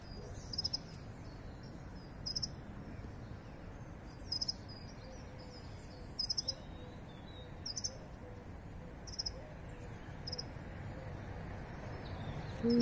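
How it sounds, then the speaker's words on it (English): Short bright bird chirps in a British winter vegetable garden, coming in brief bursts every couple of seconds over a steady background hiss. The calls sound moderately close but not loud. "I feel like the bird is talking to me."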